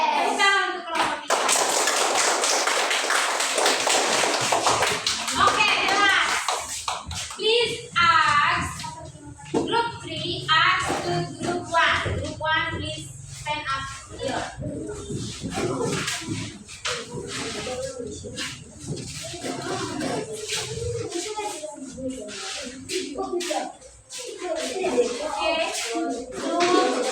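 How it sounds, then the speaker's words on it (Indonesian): A group of people in a classroom gives a round of applause for group 3. Dense, sustained clapping fills the room, with scattered talk and shuffling mixed in. "Tepuk tangan untuk kelompok 3."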